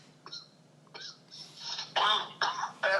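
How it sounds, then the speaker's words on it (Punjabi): Repeated harsh coughs and throat clearing from a person with a chest infection, about five or six bursts that grow louder and closer together, near and alone. "ਮੇਰੀ ਖਾਂਸੀ ਨਹੀਂ ਹਟਦੀ ਮੇਰਾ ਚੈਸਟ ਇਨਫੈਕਸ਼ਨ ਆ"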